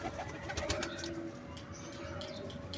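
Pigeons cooing and stirring at a loft during a flying session, a steady mix of soft coos and chirps with some wing movement, fairly close, no talk over it.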